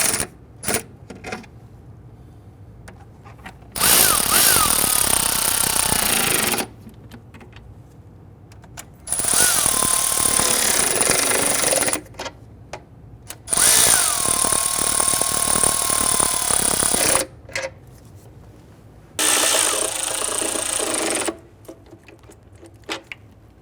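Power tool driving a bolt into the plastic intake manifold of a 1999-2004 Jeep Grand Cherokee 4.7L V8, four loud bursts of whirring about three seconds each, separated by quieter gaps of handling noise.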